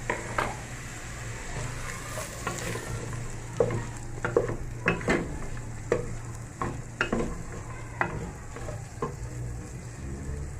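Onion fries in a little oil for matumbo stew, a low steady sizzle broken by repeated scraping stirs and soft clunks, close by with no talk.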